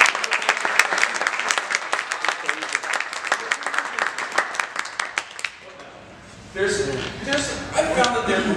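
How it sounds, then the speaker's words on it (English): An audience applauds after a card magic trick, a burst of close, dense clapping that fades out midway, then chuckling and excited voices. "give him a round of applause"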